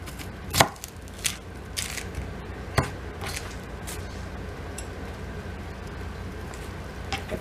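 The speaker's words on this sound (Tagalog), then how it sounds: "maghihiwa tayo ng sibuyas." A knife chops through a large onion on a board in a few sharp, separate strikes early on, then the cuts thin out to sparse taps against a faint background.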